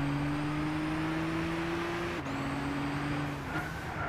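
A Nissan GT-R in Gran Turismo 6 holds a steady, loud engine drone that climbs gradually, with a brief dip around a gear change before pulling on again, no talking.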